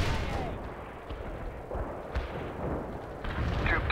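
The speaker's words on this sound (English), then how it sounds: "Good to see those AA guns back in action" Anti-aircraft guns fire in the World in Conflict strategy game, a rolling series of booms and rumbling bursts over a dense battle din, moderately loud and continuous.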